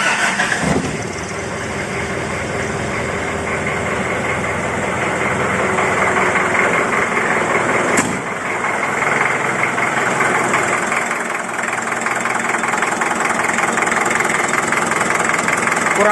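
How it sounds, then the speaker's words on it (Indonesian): Diesel engine of a 1996 Daihatsu Taft Rocky 4x4 cranks and catches, then settles into a steady, fairly smooth idle with a faint ticking clatter, recorded up close and loud throughout. "ini masih termasuk suara yang halus kalau untuk mesin diesel"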